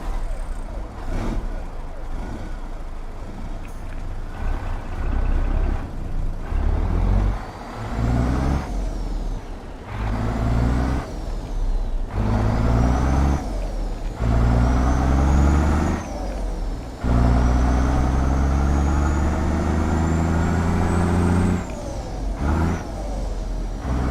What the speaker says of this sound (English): So this is the ISX EGR from Zeemods.